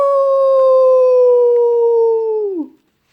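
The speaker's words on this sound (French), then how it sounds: "Le loup pousse un épouvantable hurlement." A single long wolf howl, loud and close, holding a steady tone for over two seconds before sliding down and cutting off into silence.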